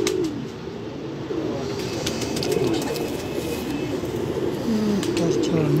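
Rooftop pigeons coo in repeated low, rolling calls, several birds close by, over a steady background hum with faint high chirps mixed in.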